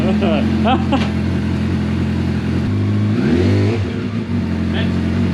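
A barn-find Suzuki Bandit 650S motorcycle engine runs and revs nearby, its steady rumble rising and falling through a few throttle blips, with people talking over it.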